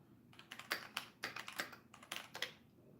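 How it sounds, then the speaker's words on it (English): Rapid typing on a computer keyboard during a livestream chat, with bursts of quick, close key clicks and brief pauses between flurries, heard alone without talk. "let's have a typing competition"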